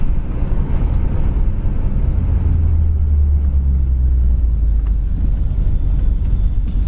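The big four-barrel engine of a 1969 Buick Riviera pulls the car along as a loud, steady, deep rumble with continuous road and engine drone, heard alone.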